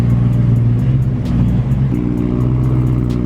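BMW E92 M3 idling with a newly fitted loud aftermarket exhaust, a deep steady burbling rumble close by that shifts pitch slightly partway through, no voices.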